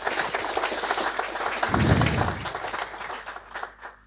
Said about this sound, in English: I think that applause was for Elke and not for me.